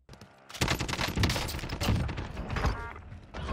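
Dense, loud Warzone video game gunfire, a rapid continuous volley of shots that rattles on for several seconds without pause.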